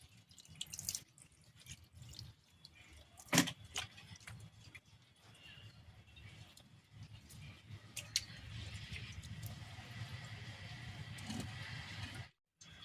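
Water poured bit by bit into sand in a flowerpot makes faint, irregular drips and soft trickling. Scattered ticks and taps come up close in a quiet room.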